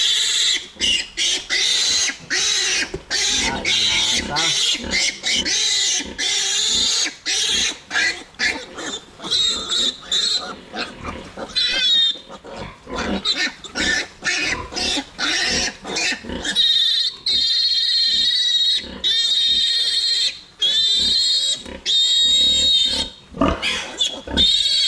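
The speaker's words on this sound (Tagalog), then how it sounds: "So, labing isa yung biik natin ngayon." A sow with her litter of eleven newborn piglets on a farm, with constant high-pitched squealing and grunting from the piglets, close and loud throughout, and occasional brief talk.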